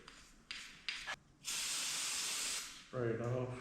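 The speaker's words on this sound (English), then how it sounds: "Spray it off, good to go." Cleaner sprayed onto the shaft of a FOX Podium 2 suspension during a rebuild: several short spray bursts, then one long continuous hissing spray, ending with a brief voice.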